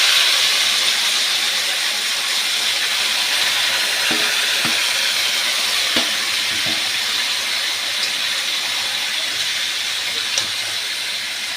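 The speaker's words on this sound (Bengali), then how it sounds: "এইবার আমি ওই পুরো ম্যারিনেট করে রাখা টমেটোটা একদম ঢেলে দিলাম এই চিকেনটা ঢেলে দিলাম টমেটো দিয়ে" Marinated chicken and tomato poured onto fried garlic in a hot pan, producing a loud, steady hiss and sizzle with a few faint utensil taps, no voices.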